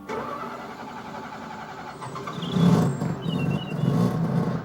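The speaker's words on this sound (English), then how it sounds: "Such a great sounding engine, isn't it? The Wankel may sound great" An NSU Ro 80 car's Wankel rotary engine runs, a smooth, continuous hum that swells louder partway through as it revs, heard up close with no talking.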